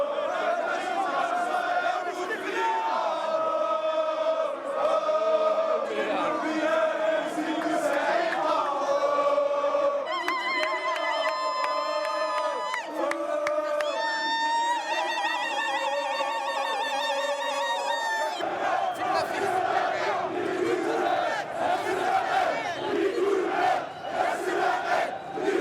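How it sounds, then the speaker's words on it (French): A large crowd at a street protest in Algeria chants and sings protest songs together in chorus, loud and continuous throughout, with sustained massed voices and shifting melodic lines. "la foule entonnera en chœur des chants contestataires"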